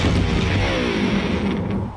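An electric guitar dropped from a 20-story building strikes the ground with a heavy, booming crash, and a low rumble with ringing resonance holds for about two seconds before it begins to fade.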